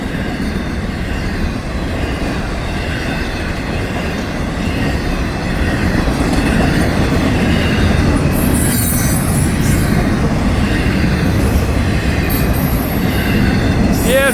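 A Florida East Coast Railway train passes loud and close, a dense rumble of rolling wheels and rail noise running the whole time, with bursts of high metallic squeal toward the end.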